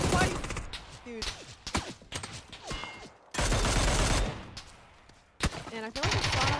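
Bursts of gunfire in the video game PUBG crack out in uneven clusters, loud and close, separated by brief gaps with players talking over them.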